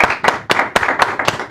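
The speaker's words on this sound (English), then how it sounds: "Round of applause." Hearty clapping from a gathered group during a celebration, with sharp rhythmic bursts of hands striking together at a steady pace, close and lively, and no voices over it.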